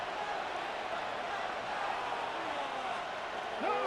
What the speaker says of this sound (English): one play in, one sack later, and this crowd is rocking